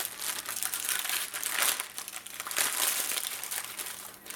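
Paper crinkling and rustling as a scrapbooking mail envelope and its contents are handled and opened, close and continuous with louder crumpling bursts.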